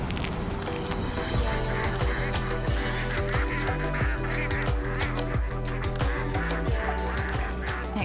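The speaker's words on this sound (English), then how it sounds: "Can you hear that? The ducks certainly have a lot to say." Ducks at the Puddle Duck winery in Tasmania call loudly and nearby, a continuous chorus of repeated honking quacks layered over one another.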